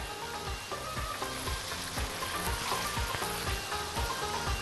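Freekeh cooking in a pot as it is stirred, a steady bubbling sizzle with regular scraping spoon strokes against the pot, close and continuous.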